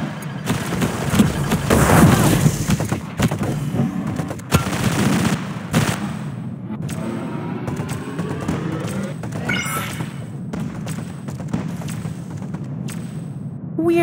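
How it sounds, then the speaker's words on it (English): Loud, dense bursts of explosive gunfire and booms from rockets fired in the mobile shooter Ricochet Squad, heaviest in the first six seconds, then easing into a rumbling, rattling wash with scattered sharp hits. "Rockets away!"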